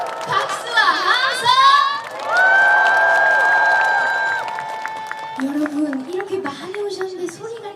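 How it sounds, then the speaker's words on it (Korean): A crowd cheers and shouts at the Cheongsong apple festival, with long sustained whoops and raised voices over some scattered clapping, loud and close. "다 같이 박수 한 번 질러볼까요?"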